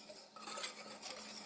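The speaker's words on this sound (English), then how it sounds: "A little whisk. Okay, so we're just going to mix these together real quick." A whisk clinks briskly against a bowl, mixing ingredients for Madeleine cookies in a home kitchen, with steady, quick metallic scraping and tapping for a second and a half, close and fairly quiet, with no talking.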